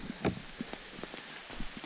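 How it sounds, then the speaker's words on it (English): Hard rain falls on the Appalachian Trail during a wet day near a shelter, making a steady hiss with scattered drop impacts and a couple of louder patters close by. "As you can see, it's raining really hard."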